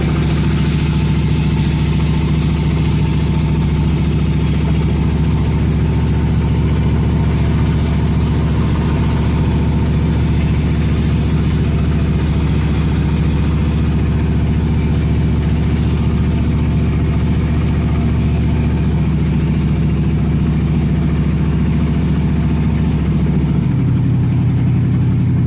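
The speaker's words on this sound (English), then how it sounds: "Truck is running better." A truck engine runs steadily at idle for the whole stretch, a loud, close, continuous low rumble with a slight shift in pitch near the end and no talking.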